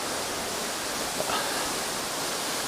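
Water pours steadily down from a cave opening at the top of a waterfall. The rush is a broad, continuous hiss, close and even, with no one talking.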